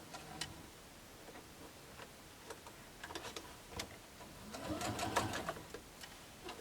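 A sewing machine stitches quilting fabric in short bursts, its needle ticking in quick close rhythmic runs with small pauses and a louder stretch near the end.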